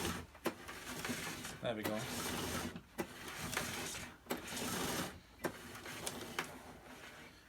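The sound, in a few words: cord rewinding on 1982 Moulinex Major upright vacuum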